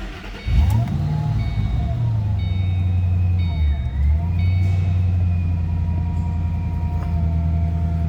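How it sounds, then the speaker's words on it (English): A supercharged 2007 Ford Mustang Saleen S281 coupe running steadily nearby: a loud, sustained engine drone with a thin rising and falling whine on top. A brief dip comes near the middle, and there is no talk. "you can hear that supercharger whine"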